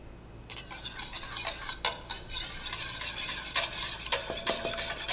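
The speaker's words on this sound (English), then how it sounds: "Whisk the mustard in." A whisk clicks and scrapes steadily around a bowl, stirring mustard into a shallot vinaigrette, the close, bright tapping continuing without pause after a brief quiet start.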